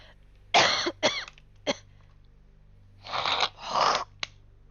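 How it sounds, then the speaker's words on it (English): Several harsh coughs and throat clearings come in two clusters, close and loud, separated by a brief quiet gap. "I'm gonna go clear my throat because you don't want to hear that shit."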